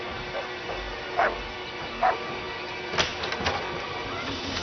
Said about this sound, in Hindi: कितना शोर है, कितना भौंक रहा है तुम्हारा कुत्ता।